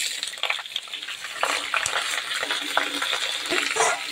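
Pumpkin leaves frying in light mustard oil in a hot wok crackle and sizzle close up, broken by sharp metallic stirring clicks, with no voices.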